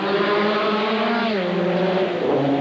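A Porsche race car roars past at Le Mans in 1988, its loud engine note sliding steadily downward in pitch as it goes by, with no voices over it.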